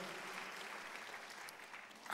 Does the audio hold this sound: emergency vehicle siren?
no